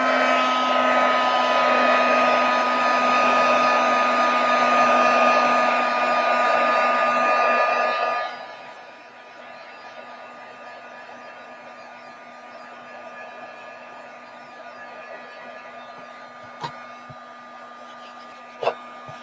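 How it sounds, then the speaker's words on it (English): A heat gun blows a loud, steady roar of hot air over rice paper on a shabby chic altered box for about eight seconds, then cuts off, leaving quiet room tone with a couple of faint clicks. "Let me hit it with the heat gun."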